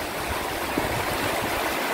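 Strong floodwater from the Sierra Madre mountains rushing through a river channel in Isabela, a loud, continuous broadband roar of churning water with no break, heard up close.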